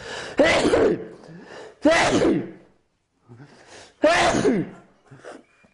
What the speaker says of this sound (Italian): anche noi starnutiamo